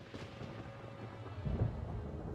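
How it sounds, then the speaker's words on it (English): Rumbling thunder from a storm in the video game Genshin Impact, a steady low roll with a heavier swell near the end, heard alone with no talking. "Paimon hears thunder!"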